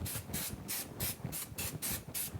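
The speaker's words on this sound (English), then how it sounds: "Also too, we'll spray the stabilizer again." Mettler spray adhesive hisses onto embroidery stabilizer in about seven short, close bursts, evenly spaced and crisp, with no talking.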